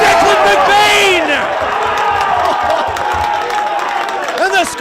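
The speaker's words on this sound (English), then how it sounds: "And the Scoresby crowd go off." Scoresby supporters at a local Australian rules football match roaring and cheering after a goal, a loud sustained crowd swell with shouts and some clapping, a commentator talking over it.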